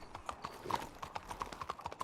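Horse hooves clip-clopping from a video game, a quick steady patter of hoofbeats at moderate distance, fairly faint and heard alone.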